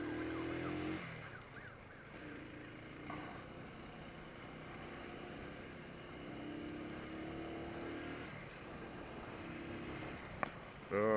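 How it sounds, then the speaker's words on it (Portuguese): An ambulance with its siren on moves through traffic, its faint wailing tone rising and falling under a continuous wash of engine and road noise, fairly distant. "A ambulância não é muito ágil, os motociclistas atrás nem um pouquinho."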